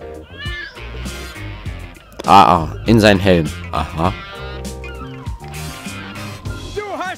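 A kitten meowing in the Lego City Undercover video game, with several high, rising mews over game music, the loudest in the middle and a last short mew at the end, while someone talks in German.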